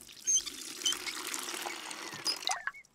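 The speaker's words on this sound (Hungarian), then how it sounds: "Először kell egy kis víz." Water pours steadily into a bucket in a cartoon scene, a continuous close splashing rush lasting a few seconds before cutting off sharply.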